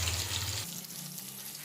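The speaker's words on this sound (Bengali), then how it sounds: "এটাকে ভালোভাবে একটু ভেজে নেব" Chopped ginger, onion and garlic sizzle in hot oil in a kadai, a steady close frying hiss that drops sharply in loudness partway through, then continues softer as the pieces are stirred.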